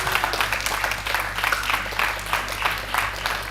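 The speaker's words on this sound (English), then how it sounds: "you can expect a huge cheer" An arena crowd in Slovenia roars and applauds a home player, Max Benko, newly crowned at the European youth pool championships, a dense, sustained wash of clapping and cheering that holds steady throughout.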